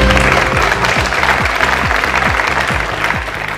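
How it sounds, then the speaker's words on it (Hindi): Quiz show studio audience applauds a correct answer, a dense, loud wash of clapping over a repeating musical sting with low rhythmic beats. "सही जवाब, तालियां।"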